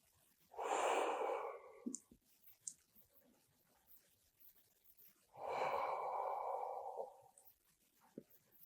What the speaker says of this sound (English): breathing in and out, into our heart centers and out.